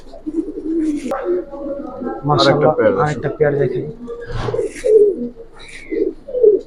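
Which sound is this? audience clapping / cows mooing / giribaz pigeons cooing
giribaz pigeons cooing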